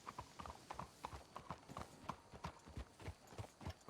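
Horses' hooves clip-clop steadily at a walking pace on a trail in the video game Red Dead Redemption 2, a close, rhythmic stream of hoofbeats with no voices over it.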